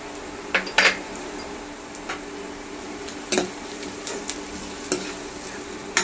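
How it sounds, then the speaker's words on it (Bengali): Dry chili, cumin and coriander powder frying in a pan for dhaba-style chicken masala, stirred with a spoon that scrapes and taps the metal in scattered bursts over a steady low sizzle. "শুকনো মশলাটা দিয়ে একটু ভালো করে নেড়ে দেবো"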